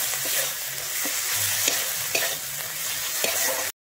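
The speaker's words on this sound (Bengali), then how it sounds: "আমি আদাটা দিয়ে কিন্তু ভালোভাবে এখানে আদাটাকে ভেজে নেব।" Steady sizzling of ginger paste frying in a pan, with a few scraping stirs of a spoon cutting through the crackle. No voices.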